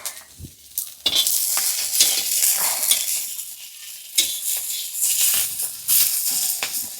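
Drumstick stalks are stir-fried in a pan with a crackling sizzle, broken by repeated scraping and stirring strokes.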